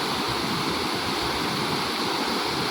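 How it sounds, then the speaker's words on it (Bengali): A torrent of floodwater released from Jharkhand roars in a dense, continuous broadband rush, loud and close, with no let-up across the short stretch. "জলের কি তাণ্ডব।"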